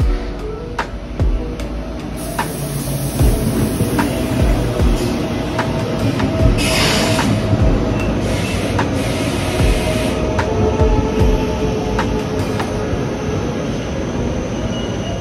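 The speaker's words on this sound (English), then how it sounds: "the train is... Here, it's actually arriving" A train rolls into a station on the way to Frankfurt, with a steady rumble of wheels over the rails, repeated clacks at the track joints and a high brake squeal that rises in bursts as it slows, loud and close throughout.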